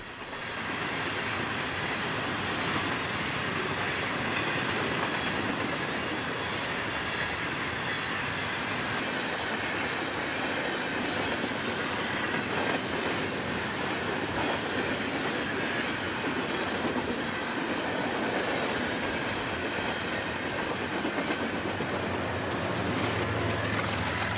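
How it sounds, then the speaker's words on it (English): A long Herzog ballast train rumbles steadily past at close range on the Raton Subdivision, with continuous wheel roar and rhythmic clatter of railcars over the tracks, sustained throughout. "We caught our final run-by at Levi of the Herzog train headed east toward Raton"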